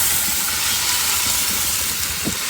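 Elephant foot yam curry tipped into a hot karahi gives a loud, steady hiss and sizzle that holds without a break throughout, with no voices over it.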